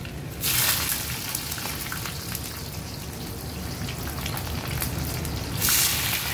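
Ginger and onions frying in oil for Nepali chicken pickle, giving a steady close crackling sizzle with brief louder bursts at the start and end.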